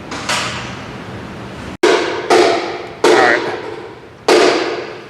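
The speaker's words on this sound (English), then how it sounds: "let me knock that fuel pump off real quick" Sharp metallic hammer blows on a Chevy engine to knock off the fuel pump, five loud strikes spaced about a second apart, each ringing briefly, close up with no talking.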